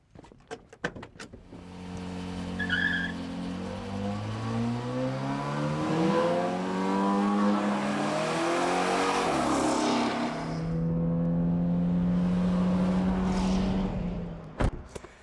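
A Chevrolet Bel Air bracket racer and a Honda launch side by side at a drag strip, engines roaring and climbing through gears loudly for several seconds, fading briefly, then surging again before sharp clicks at the end.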